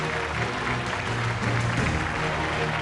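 Audience applause on a television game show, a steady dense clapping that holds at an even level throughout with no pauses.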